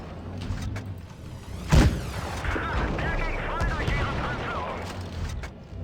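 A single sharp, booming cannon shot from a tank in World of Tanks Blitz, close and loud, followed by battle noise while a player talks.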